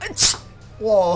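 One sharp sneeze bursts out near the start, then a short exclamation from a voice right after.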